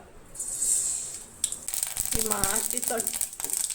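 Mustard seeds crackle and sizzle in hot oil while a Goan bhaji is being made. A faint hiss swells into busy spluttering and popping, and someone talks briefly over it.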